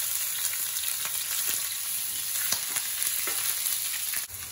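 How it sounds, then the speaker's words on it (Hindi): Bay leaves, cumin seeds, green chilies and garlic sizzle in hot refined oil while tempering spices for a paneer dish. The frying hiss is loud and close and never stops, with a few brief crackles and no voices. "अब मैं चौक में डालूंगी तेज पत्ता, थोड़ी सी, थोड़ा सा जीरा, हरी मिर्च,"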